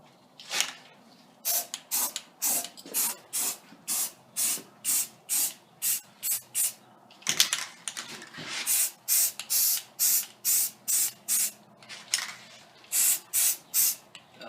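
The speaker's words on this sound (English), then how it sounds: "Here, spray the windshield." An aerosol spray can puffs paint onto the windshield of a 1988 Jeep XJ in repeated short bursts, each a sharp hiss lasting under a second, close and loud with brief pauses between.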